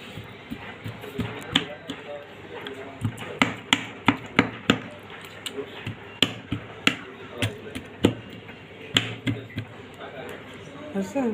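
Marinated meat pricked with a fork, giving a series of sharp, regular taps and jabs, close by, with talk heard alongside.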